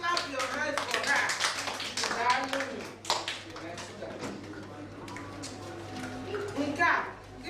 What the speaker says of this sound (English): Koraniaka, clap your hands for her.